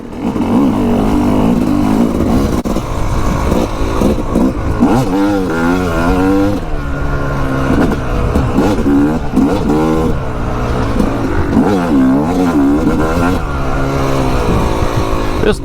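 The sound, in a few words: Yamaha YZ250 two-stroke dirt bike engine revving on trails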